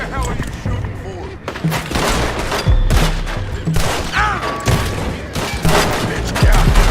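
Repeated gunshots in Red Dead Redemption 2 crack in loud, irregular volleys, some close and sharp, others more distant, while voices talk and shout over the firing.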